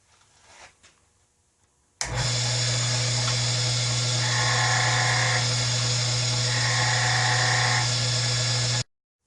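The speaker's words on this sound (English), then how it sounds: "take your skew chisel and bring it vertically to the wood" A wooden pen blank on a brass tube spins on a lathe while a skew chisel cuts grooves, a sudden steady loud whine with a high scraping tone that swells twice, then stops abruptly.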